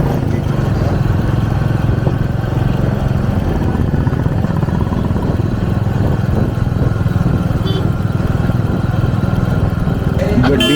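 Steady, continuous road noise and a low engine drone from a motorcycle riding on a highway on the way from Dehradun to Rishikesh, Uttarakhand, persisting unchanged throughout.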